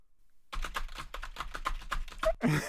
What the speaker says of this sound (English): That was angry typing to the keyboard warriors mounting up.